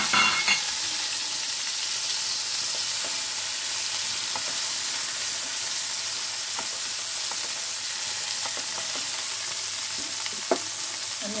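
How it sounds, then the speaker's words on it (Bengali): Chopped garlic, onion and tomato fry together with black cumin seeds in a pan, giving a steady, even sizzle throughout with a few faint clicks of stirring and no talking. "তার সঙ্গে দিয়ে দিচ্ছি রসুন কুচি, পেঁয়াজ কুচি আর টমেটো সব একসঙ্গে দিয়ে দিলাম"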